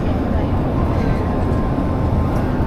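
Constant low roar inside an airliner cabin in flight between Australia and Hawaii. The engine and air rumble is dense and unbroken, with faint murmuring underneath.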